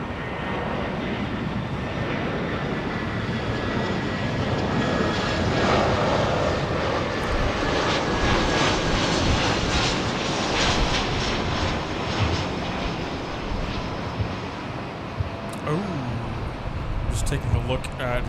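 Jet airliners, many of them Delta, taxi and roll at LAX at night, a steady broad engine roar filling the scene with occasional louder surges, while a voice talks over it.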